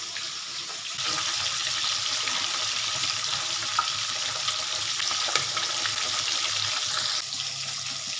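Pieces of rohu fish fry in hot sunflower oil, a dense, even, crackling sizzle that steps up louder after the first second and holds steadily, close by, with no talk.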